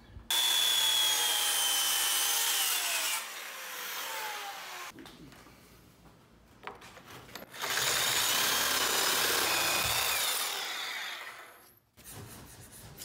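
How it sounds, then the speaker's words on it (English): A reciprocating saw cuts through the top plates of a support wall during a demolition, buzzing loud and near in two long runs with a rough, quieter stretch of rattling between them. "now the reciprocating saw can follow, and that'll separate the top plates from here"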